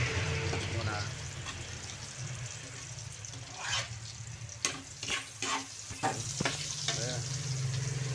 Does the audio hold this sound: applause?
no